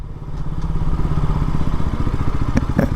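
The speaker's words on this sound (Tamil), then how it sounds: "நான் வண்டியை மேலே ஏற்றிடுறேன்." A motorcycle engine running steadily at low revs close by, a throbbing, rumbling drone with a few light clatters near the end.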